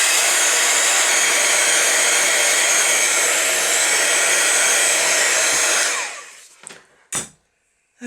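Hair dryer blowing on a paper craft project, a loud steady close roar for about six seconds, then switched off and winding down, followed by a couple of brief handling knocks.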